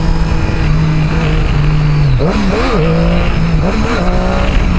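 A motorcycle engine revs during a wheelie attempt: a loud, close rumble with throttle blips that rise and fall several times in quick succession.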